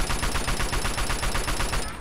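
Rapid automatic fire from the standard assault rifle in Fallout 3, played through a Fallout 4 mod: a loud, continuous burst of evenly spaced shots lasting about two seconds, then cutting off.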